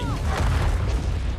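A bridge blows up in Call of Duty: Infinite Warfare, a deep, booming explosion rumbling loud and near with a low tail, and a voice briefly heard over it.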